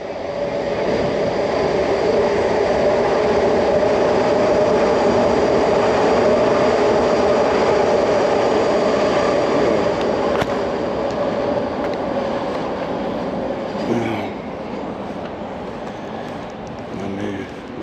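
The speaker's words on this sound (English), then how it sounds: "Here comes the loud train." A loud train passes on Kensington Avenue in Philadelphia, a heavy steady roar and rumble that stays strong throughout before easing slightly near the end.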